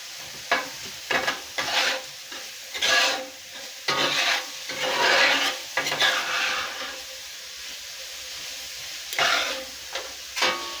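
Food cooking in a pan, with repeated scraping and stirring strokes over a continuous sizzle, irregular in rhythm and fairly close, no one speaking.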